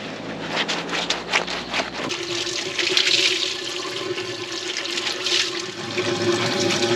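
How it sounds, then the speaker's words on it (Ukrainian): Water splashes and swishes continuously as a shirt is sloshed and rinsed in spring water outdoors, a steady close wet churning with no talking. "Намочив сорочку в джерелі. Зараз намилю, прополосну."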